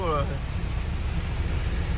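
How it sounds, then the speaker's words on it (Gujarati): Heavy rain pours down on a truck carrying pineapples, a dense, steady roar of noise, close and unbroken throughout. "આગળ કોઈ દેખાય એવું રાખ્યું નહીં વરસાદે"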